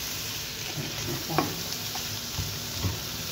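Fried rice with carrots and barbecue meat is stirred in a hot pan. A steady sizzle runs under a few scraping clicks from the stirring utensil, close and moderately loud, with no voices.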